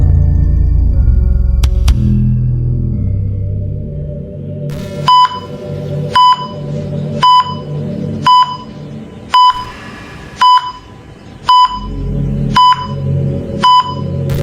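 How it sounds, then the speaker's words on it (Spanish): A heart monitor in a dramatic audio story emits steady, loud electronic beeps roughly once per second, preceded by a deep rumbling drone that continues faintly beneath the beeping. "El zumbido monótono del monitor cardíaco fue lo primero que Izuku Midoriya escuchó al despertar."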